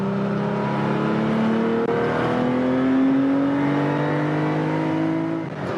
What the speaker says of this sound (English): Open it up, let it drift over, let it come through the corner. 80 miles an hour through here.